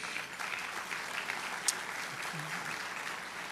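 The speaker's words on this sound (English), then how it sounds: "let's give them a big round of applause anyway" Audience applause fills a crowded room of about 800 people at the Polk County All Sports Awards and Hall of Fame ceremony, a steady, fairly soft wash of clapping that holds evenly for several seconds with no one speaking.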